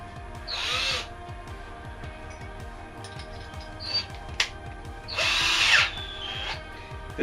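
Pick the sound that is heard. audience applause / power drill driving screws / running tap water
power drill driving screws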